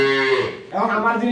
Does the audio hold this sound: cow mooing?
yes